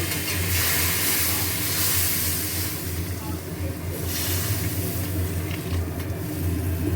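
Water poured into potato curry as it fries in a pan, giving a steady loud hiss and sizzle of steam that fills the whole stretch, with no talk over it.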